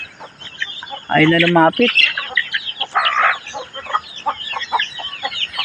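Farmyard chickens cluck and call near and fairly loud while being fed, with a strong burst early on and softer scattered calls after, under a voice speaking over them.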